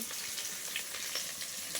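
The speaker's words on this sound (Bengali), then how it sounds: "এখানে মাছের ঝোলের জন্য আলু ভাজতেছি।" Potatoes frying in oil for a fish curry, cooked over a wood-fired clay stove, give a steady close sizzle with soft crackles throughout, no voices.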